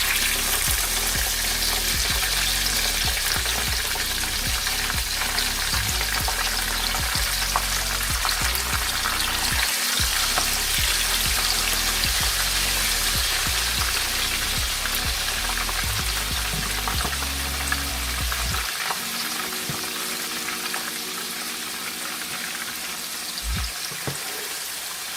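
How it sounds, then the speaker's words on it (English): Soy tofu kebabs fry in hot oil with a dense, steady sizzle and crackle throughout, joined by intermittent low bumps and clatter, and the low-end activity settles near the end. "So this is the first batch that I just fried."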